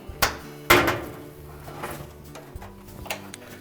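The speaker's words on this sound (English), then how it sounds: "and then we'll open the door" Appliance door opened during a repair, giving a couple of sharp knocks and clicks close by, then quieter rattling and handling noise.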